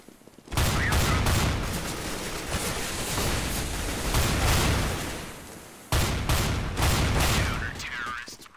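Auto-shotgun fire in the video game CS:GO: rapid, loud blasts in two sustained bursts separated by a brief pause, close and dense, with a voice talking faintly underneath.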